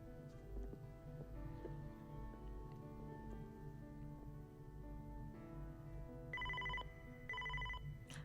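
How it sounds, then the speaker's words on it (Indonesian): A telephone rings in a room over a steady low music bed, two louder bursts of the bell coming near the end. "Mr. Chang, ini telepon dari rumah sakit."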